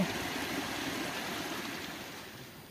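A steady, full rush of water pours along as it is pumped into a coconut grove. The sound is continuous and close, and it eases slightly toward the end.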